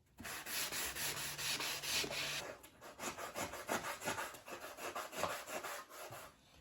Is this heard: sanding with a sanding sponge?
yes